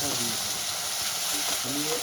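Tomatoes and green chillies sizzle steadily in hot oil with whole cumin, a close, continuous frying hiss with faint stirring scrapes and no talking.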